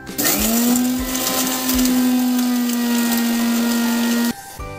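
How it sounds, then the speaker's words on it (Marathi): A kitchen mixer grinder runs loud and steady, pulverizing whole biryani spices such as cardamom and bay leaf, its motor whine holding from start to nearly the end before cutting off abruptly. "मसाला सगळा आपण मिक्सरला बारीक करून घ्यायचा आहे"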